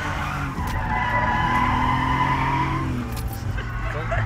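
A car drifting with its hydraulic handbrake pulled at a drift school, tires skidding and squealing loudly and continuously over a droning engine for several seconds, with a brief voice in the background.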